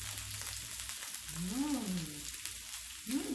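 Soup bubbling and sizzling on a Thai mookata grill at home on a cold 2-degree evening gives a steady, crackly frying hiss. A couple of short, rising-and-falling tonal squeals rise above it.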